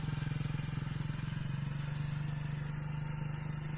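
A training motorcycle ridden by an instructor runs with a steady, low, rhythmic engine throb. It holds an even loudness, close by, with no talking.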